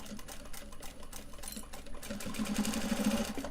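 A sewing machine runs a tight edge stitch along fabric for a Japanese fabric phone purse, its needle chattering in a fast, steady whir that grows slightly louder, close and alone.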